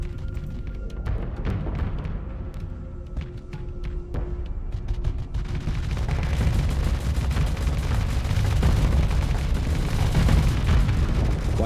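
A thermal cannon fires in the space combat game Starsector, sharp blasts cracking at first, then a heavy rumbling barrage building and booming steadily louder toward the end.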